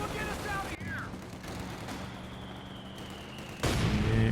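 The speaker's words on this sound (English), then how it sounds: "Is a mortar." Mortar and other weapon fire rolls on during a Company of Heroes 2 4v4 battle. A crackling barrage sits under game sound effects, and a louder, denser burst arrives near the end.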